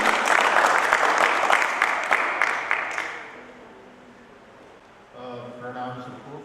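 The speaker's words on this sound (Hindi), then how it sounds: "श्री दीपक सिन्हा जी, तालियां बनती है भाई।" A seminar audience at Audrey House claps in loud, dense applause for about three seconds, then it fades, and a voice begins speaking over the hall near the end.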